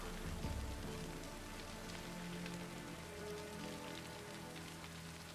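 Steady rain patters and hisses across surfaces in The Witcher 3: Wild Hunt, a dense, even wash that continues without a break.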